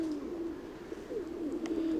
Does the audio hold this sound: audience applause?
no